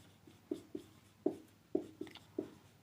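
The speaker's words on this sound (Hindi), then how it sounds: "तो यहाँ लिखते हैं हम लोग" Chalk or a marker taps and strokes on a board during a physics lecture, six short distinct knocks in an uneven rhythm, close and clear against a quiet room.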